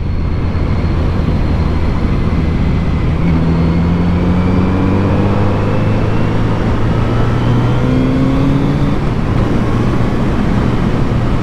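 A Kawasaki Z900RS motorcycle on a twisty back road in Virginia, its engine droning steadily and rising in pitch as it accelerates, heard from the rider's position over constant wind rush, with no speech.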